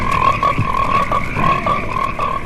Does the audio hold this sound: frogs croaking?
yes